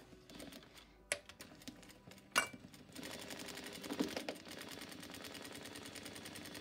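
Sewing machine running a straight seam on a 1950s-style skirt, a couple of sharp clicks and knocks before the needle settles into a fast, steady rhythmic whirring, close and moderately quiet.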